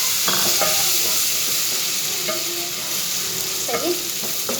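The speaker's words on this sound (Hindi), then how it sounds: "टमाटर मैंने इसमें ऐड कर दिया।" Chopped tomato dropped into a hot spiced pan with turmeric for aloo pulao, a continuous loud sizzle and hiss with faint stirring scrapes, close up and no talking.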